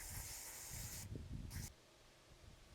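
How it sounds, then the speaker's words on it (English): A steady aerosol hiss from a can of contact cleaner sprayed onto a Dodge Ram license plate light bulb connector, sustained for about a second, followed by a second shorter burst, close up. "Spray the contact cleaner on the bulb connector too."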